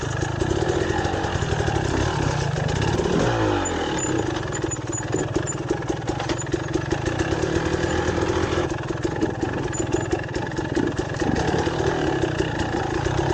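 A motorcycle fitted with IRC VE33 and VE35 all-terrain tires brakes during riding: a loud, continuous engine drone close by, its pitch sweeping down as it slows, with steady rough mechanical noise throughout.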